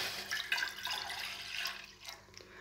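Water poured from a tap or pitcher into a cup measuring one cup for a fennel herbal brew, a steady close splashing pour with soft dripping as it settles, no talking over it.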